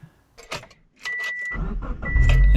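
A 2008 Subaru Forester turbo fitted with new Killer B headers and Group N engine mounts starts up, a low engine rumble building and holding steady after some brief clicks and handling noises.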